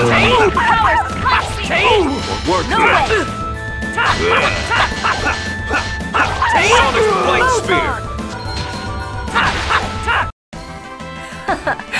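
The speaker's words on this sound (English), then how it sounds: "Injured dog sound." An injured dog yelps in the Tales of Symphonia video game, sharp yips and whimpers mixed with crashing hits and game music, all under continuous talking.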